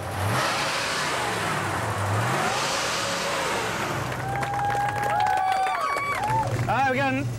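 A 1966 coupe with a 289 V8 revs and accelerates hard at a rooftop car event, its loud engine roar sweeping up through the gears over crowd noise, with a tire squeal near the end.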